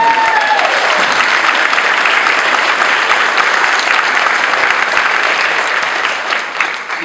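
A large audience at an honors convocation applauds students with a steady, dense wash of clapping that holds loudly for several seconds before starting to thin.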